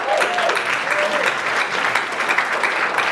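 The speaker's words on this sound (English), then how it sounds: "round of applause, please." Audience at a sales and revenue leaders event in a London hotel applauds as a founder walks to the stage, a steady, full round of clapping throughout with a brief voice near the start.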